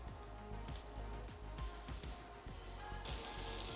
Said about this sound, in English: I've got my skillet on medium-high heat. We're going to start cooking these. Nice sizzle.